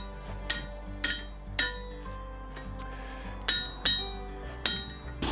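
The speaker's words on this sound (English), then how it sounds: "I'm using the edge of the anvil to start the loop, and then moving to the mandrel, which is shaped like a cone." A blacksmith hammers a steel loop on an anvil edge and a cone-shaped mandrel, giving about eight sharp, ringing metallic strikes at uneven intervals, close and loud, with no talking.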